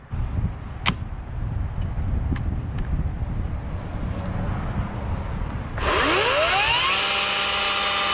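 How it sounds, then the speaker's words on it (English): A Ryobi 40V HP battery chainsaw, model RY40580, cutting through logs outdoors. After several seconds of wind rumble, its motor revs up suddenly into a loud, steady, high-pitched whine that runs to the end. "The performance and strength of the motor is surprisingly good. It's cutting through these logs with ease."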